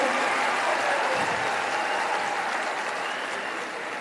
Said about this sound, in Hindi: जनाब प्रशांत किशोर जी का जोरदार तालियों के साथ स्वागत करें